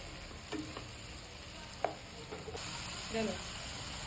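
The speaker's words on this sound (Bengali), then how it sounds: "সয়াবিনগুলোকে চিপে চিপে উঠিয়ে এটার মধ্যে দিয়ে ফ্রাই করবে" Softened soybean chunks frying in a pan, a faint hiss broken by a few utensil scrapes and one clear knock as they are stirred.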